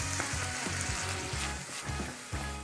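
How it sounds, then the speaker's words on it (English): Minced pork and onion sizzle loudly in a hot pan, a steady close frying hiss broken by a few low stirring thuds. "Let's add the minced pork. Turn the heat up a bit so you can brown it well."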